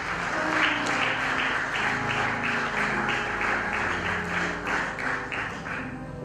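An audience in a church claps together, a dense, steady round of applause lasting several seconds at moderate distance, with no speech over it.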